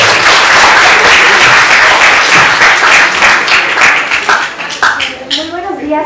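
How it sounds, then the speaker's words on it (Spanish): Applause from the audience at a school debate, dense and loud from the start, then thinning out toward the end as a voice begins speaking over the last clapping. "Fuertes los aplausos, por favor"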